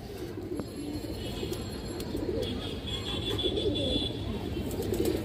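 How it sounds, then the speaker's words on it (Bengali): A female chila pigeon coos in low, soft, rolling notes that repeat over a steady background hum, close by and fairly faint. "এটা মাদি কবুতর"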